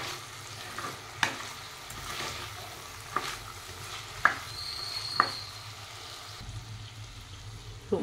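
Brinjal and chana dal curry frying and sizzling in a pan, with a spoon scraping and stirring and a few sharp clinks against the pan edge, close and steady.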